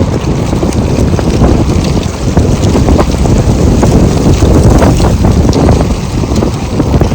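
Strong wind buffets the microphone with loud, continuous rumbling gusts outdoors, filling the clip with roaring noise and no talk.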